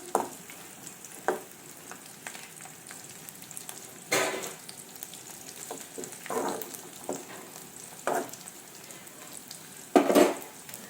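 Chillies and cut potatoes for aloo fry hissing and sizzling in hot oil in a pan, a steady crackle broken by several louder bursts of stirring and scraping, close and fairly quiet, with no talk.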